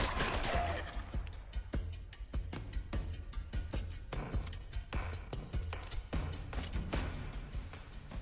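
Rapid gunfire from a low-recoil gun in the video game Fallout London, a long string of sharp, close shots in uneven bursts.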